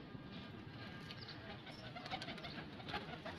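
Breeder pigeons, including a red checker, in a club loft, with a steady low cooing and fluttering murmur throughout and faint background noise.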